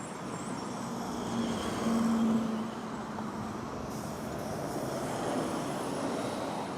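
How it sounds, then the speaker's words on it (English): Boeing 737 MAX 8 from Halifax arriving at Toronto airport, heard as a moderate, distant jet rumble that swells briefly and then settles into a steady hum. "Arriving now is a 737 MAX 8 from Halifax."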